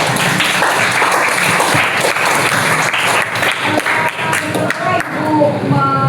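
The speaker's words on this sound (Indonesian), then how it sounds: "kita beri aplaus" Loud, steady applause from a class greets a student's presentation, many hands clapping together close by for the whole stretch before easing slightly at the end.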